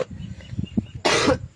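A single harsh cough bursts out loudly near the microphone after a moment of low background murmur, lasting about a quarter second.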